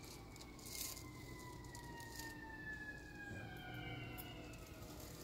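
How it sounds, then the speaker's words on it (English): Emergency sirens wail faintly in the distance outside a clinic, their slow falling tones drifting steadily under a quiet room hush. "More sirens."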